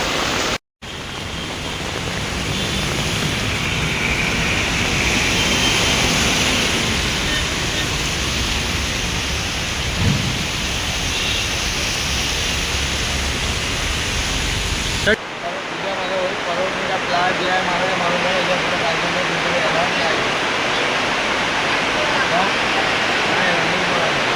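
Steady, dense heavy rain hiss in Parel, Mumbai fills the whole stretch, loud and continuous, with a brief dropout near the start and a shift in tone partway through.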